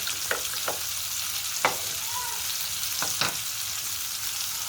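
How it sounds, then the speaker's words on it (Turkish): Milk heating in a pot gives off a steady crackling sizzle, close and continuous, with a few brief scraping clinks from stirring. "Sütün sesini duyuyorsunuzdur"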